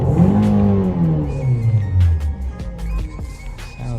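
A 2020 Nissan Rogue SV AWD engine revs up and then falls back, its pitch sliding down as the revs drop, close and throaty.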